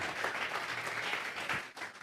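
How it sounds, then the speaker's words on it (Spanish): A church congregation claps together during a sermon, a steady dense round of applause filling the whole space at moderate loudness before tapering slightly near the end. "Vamos a regalarle ofrenda de palmas al Dios de la..."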